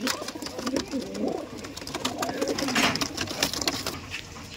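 Giribaj pigeons coo in a loft, with soft repeated throaty calls over several seconds and scattered rustling and clicks close by.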